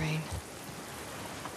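Rain in The Last of Us Part 2 video game, a soft steady hiss of falling drops after a brief low thump at the start, fairly quiet and without speech.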